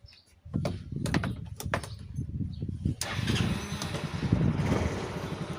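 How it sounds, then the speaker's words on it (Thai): A car engine cranks and catches, then settles into a steady, close idle rumble that carries on to the end. "เดี๋ยวผมจะสตาร์ทรถนะครับเพื่อนๆ"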